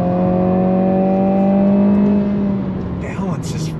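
A 2022 Honda Civic Si engine held high near its rev limiter, a loud sustained steady drone from inside the car that then eases off, with a voice briefly at the end.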